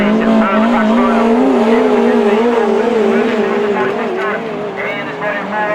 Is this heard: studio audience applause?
no